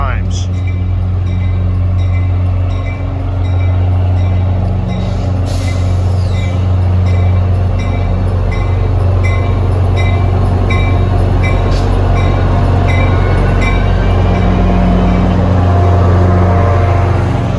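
Two New Jersey Transit F40 diesel locomotives haul a passenger train in a steady, loud drone of engine rumble and wheel noise, with metallic squeals and a few sharp clanks over the running sound.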